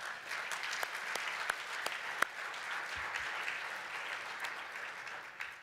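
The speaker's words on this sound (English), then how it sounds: "Please, a round of applause for Cheryl." Steady applause from a conference audience honoring the conference director, moderately distant with scattered sharper claps standing out across the whole stretch.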